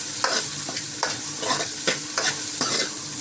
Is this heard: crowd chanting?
no